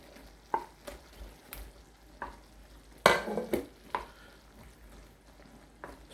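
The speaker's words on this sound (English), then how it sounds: "now we'll just add the meatballs" Meatballs dropped into gravy in a pan for Swedish meatballs, with several sharp spoon-and-pan knocks and splashes, the loudest burst near the middle, over a low steady simmer.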